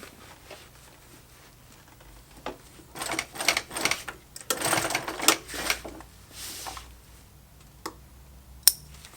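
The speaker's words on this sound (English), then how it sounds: "just tack that in position so that I have the center locked in" Sewing machine tacking the centre notch of a giant duffle bag, quick bursts of rapid mechanical ticking and stitching in short runs, moderately faint and close, with a sharp click near the end.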